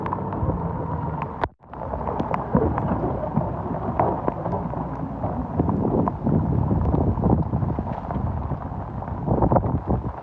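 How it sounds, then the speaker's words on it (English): Steady heavy rain with a sharp crack of thunder early on during a lightning storm outdoors, a dense constant wash of drops and gusty rumble throughout. "All right, the rain's here."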